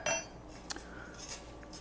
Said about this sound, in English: And rinse off my spoon.